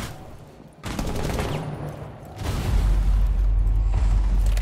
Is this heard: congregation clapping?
no